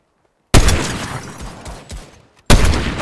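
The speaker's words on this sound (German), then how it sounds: "Oh, hier wird geschossen." Loud bursts of gunfire in the Fortnite video game, a sustained volley of rapid shots cutting off abruptly, then another burst starting two seconds later, heard up close with no talking.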